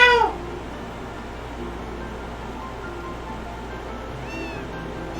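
A cat meows in Harvest Moon: A Wonderful Life, one short wavering meow at the start and another faint one near the end over a steady hum of background noise.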